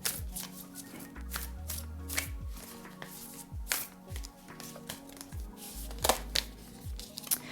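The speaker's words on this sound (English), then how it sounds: "Let's go ahead and pick an oracle card for you." Oracle cards being shuffled by hand, a run of crisp riffling slaps and papery flutters at close range over a faint low background hum, with no talking.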